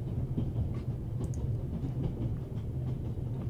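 A train runs steadily in The Raven: Legacy of a Master Thief, its continuous low rumble and faint clickety-clack on the rails carrying through the whole stretch with no voices.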